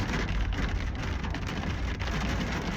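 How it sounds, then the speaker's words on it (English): Heavy rain falling steadily on surfaces, a dense, loud, continuous patter with no voices. "Wow, it is so raining."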